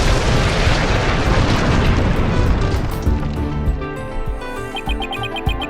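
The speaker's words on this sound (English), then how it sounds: "Two explosion devices were detonated and the launch was cancelled." Two bomb explosions go off in Phoenix Wright Ace Attorney: Dual Destinies: a loud, sustained rumbling blast that fills the clip, then trails off into ringing debris and crackling.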